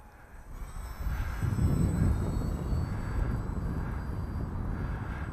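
A Dynam Scout RC model airplane makes a slow, stabilised flyby, its steady electric motor hum swelling and lingering at moderate distance over outdoor wind noise.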